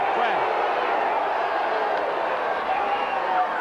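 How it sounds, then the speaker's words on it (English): Steady roar of a large crowd at a Collingwood Australian football match, a broad continuous din with a sportscaster talking over it. "Listen to that crowd."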